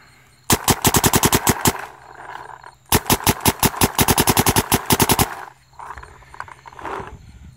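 A Luxe paintball marker fires two rapid bursts of closely spaced shots, loud and close, with a short pause between them and a fading mechanical tail afterward.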